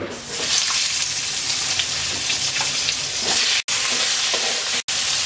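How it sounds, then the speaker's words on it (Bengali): Eggplant pieces fry in mustard oil in a wok, a steady crackling sizzle broken by light stirring taps and two brief drops to silence. "এবার বেগুনগুলো ভেজে নেব।"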